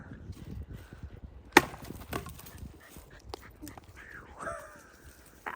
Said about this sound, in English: tree knock.